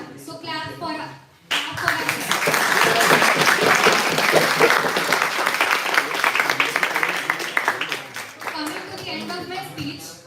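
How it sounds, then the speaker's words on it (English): Audience applause at a Model United Nations closing ceremony, a dense burst of clapping rising after brief talk and continuing loudly for several seconds before fading under a voice. "so clap for us"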